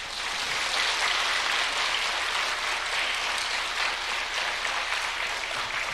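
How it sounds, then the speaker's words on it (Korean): A church congregation applauding, a dense, even wash of clapping that holds steady at moderate loudness without voices. "우리 동료 자리에서 박수를 주세요."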